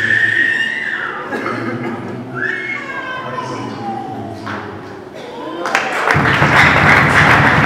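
At a Rwandan wedding, a voice speaks loudly over the crowd before a burst of dense applause and cheering breaks out near the end and carries on to the close.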